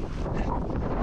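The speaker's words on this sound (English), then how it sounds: "Look how windy it is." Strong wind on a Scottish hillside during a storm buffets the microphone in a steady, roaring rush for the whole moment, loud and close, with no voices.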